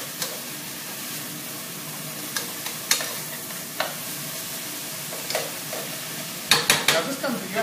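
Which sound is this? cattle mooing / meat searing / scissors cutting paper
meat searing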